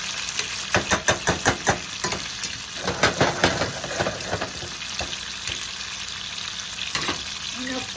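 Swordfish fries in a pan for Sicilian swordfish alla Messinese, a steady close sizzle broken by rhythmic scraping stirs and bursts of spitting oil, with no talk over it.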